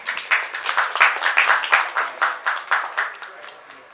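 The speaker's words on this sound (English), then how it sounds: "A round of applause for Praveen, please." An audience gives a round of applause at a live quiz event, the clapping rising in a rhythmic swell of dense hand claps and then fading out over a few seconds.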